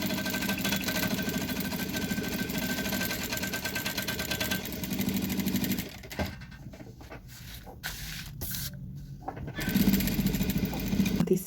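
A sewing machine runs a safety seam around the edge of fabric for a jewelry holder, its fast motor buzz steady for several seconds, then breaking into short stop-start bursts before running again.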